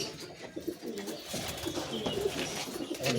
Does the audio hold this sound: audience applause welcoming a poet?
no